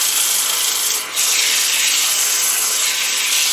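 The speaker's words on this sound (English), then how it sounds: "Give it a light sanding to get rid of the really rough spots." Wood blank spinning on a lathe while being sanded with 120-grit paper, a steady bright hissing rub that dips briefly near the start, close and alone.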